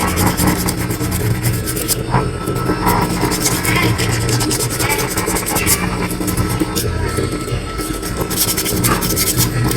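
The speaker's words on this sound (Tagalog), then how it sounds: "Lihain natin lahat yan, paikutin nyo, lihain nyo." A metal file rasps against a part of a Juki high-speed sewing machine whose presser foot will not lift, making a loud, continuous, close rubbing scrape throughout with no pauses.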